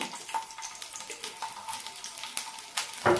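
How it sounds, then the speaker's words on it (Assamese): Garlic crackles and sizzles in hot oil, a steady close-up frying hiss with small pops and a brief louder clatter at the end. "এই নহৰু কেইফুলা ইয়াতে মই ভাজিম"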